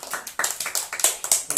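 A classroom group clapping hands together, a quick run of about eight sharp, close claps in uneven rhythm, loud and without talk.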